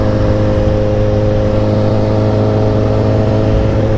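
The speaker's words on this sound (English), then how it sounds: "It's a 2005 GSX-R 1000 motor." A Suzuki GSX-S 1000 naked motorcycle with a 2005 GSX-R 1000 engine runs loud and close, a dense continuous engine roar with strong steady tones and no pauses, and no voices.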